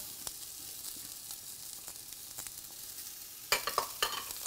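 Onions, celery, green bell pepper and garlic sizzle steadily in a pot for Puerto Rican soup, a soft continuous frying hiss with a few louder crackles and stirring clatter near the end.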